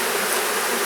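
Dense, steady buzzing of many honey bees inside an open hive during smoked hive work, a continuous near hum with no pauses and no talking.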